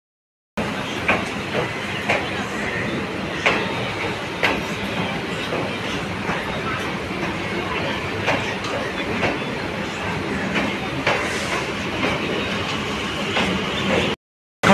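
A train pulls out of Sealdah station in Kolkata, a steady rolling rumble with rhythmic clickety-clack of wheels over rail joints, carriage rattles and faint creaks, continuous and fairly loud throughout.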